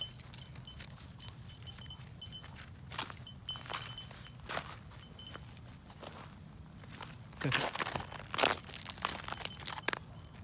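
Boots crunch through snow in a steady walking rhythm of close, crisp crunches, growing louder near the end, with soft background noise between steps.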